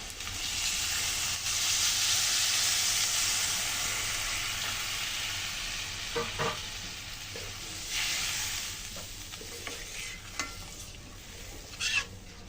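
Water poured into a hot pan of curry sets off a loud, bright sizzle that gradually settles into a softer bubbling hiss, with a few scrapes and stirs of a spoon against the pan.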